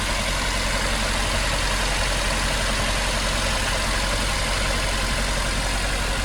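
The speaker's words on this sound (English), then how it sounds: "I'm starting the vehicle now and see the RPM." A Suzuki Jimny engine idles steadily just after a cold start, around 1500 rpm on a mild 19-degree day, giving a constant close-up broadband rumble with no talk.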